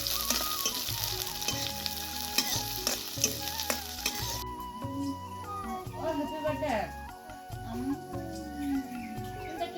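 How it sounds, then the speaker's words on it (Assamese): Onions and a fresh green chili frying in hot oil in a wok, a crackling sizzle under a spoken voice, with scraping stirs and a sharp drop in hiss midway. "এতিয়া প্ৰথমতে পিঁয়াজখিনি ভাজি ল'ম"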